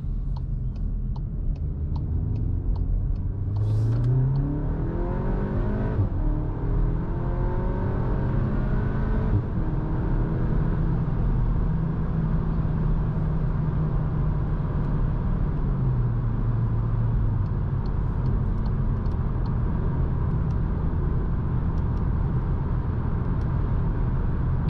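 A 2023 Cupra Formentor VZ with a 310 hp engine accelerates onto a motorway, steady cabin road roar with rising engine pitch through gear changes, heard from inside and without talk.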